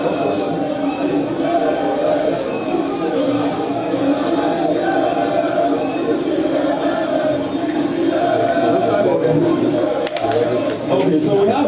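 A crowd of supporters gathers outdoors in front of the race, a steady dense murmur of many voices and movement at close range, continuous and fairly loud throughout.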